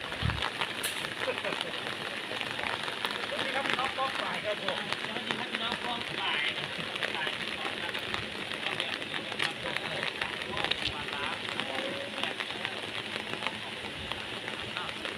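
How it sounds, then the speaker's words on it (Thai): Steady rain patters outside a small hut where people shelter during an outdoor ritual dance, a constant close hiss running under voices speaking. "ตอนนี้หลบฝนอยู่ในกระท่อมน้อยนี่นะครับ แล้วก็ ฝนก็ตกนะคะ"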